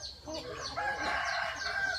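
Chickens cluck softly in a farm poultry-raising area, a faint, close scatter of short calls over quiet background.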